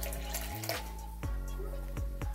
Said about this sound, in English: We're gonna pour about 8 ounces of agua up in this.